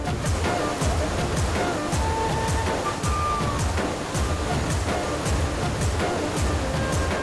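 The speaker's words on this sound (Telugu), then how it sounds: "అన్నారం పంప్ హౌస్ వద్ద 4 మెషిన్ల ద్వారా నీటి పంపింగ్" Godavari river water rushes from the Annaram pump house of the Kaleshwaram project as four machines pump, a loud, continuous, turbulent roar with steady churning and no pauses.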